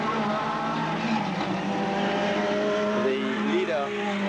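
Classic race cars roar around the Wallerfield circuit in Trinidad, engines droning loudly and continuously with rising and falling pitch as they pass, while an announcer talks over the racing.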